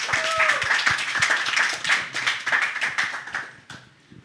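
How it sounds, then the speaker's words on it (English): A small panel-discussion audience claps for the host, a dense patter of hand claps that stays steady and close before thinning out toward the end. "Big applause for Brother Robert."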